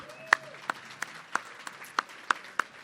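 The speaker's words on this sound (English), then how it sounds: "Can I get a round of applause for the new members?" Light, slow clapping at a morning business networking event welcoming new members, about eight distinct claps spaced evenly, close and clear over a quiet room.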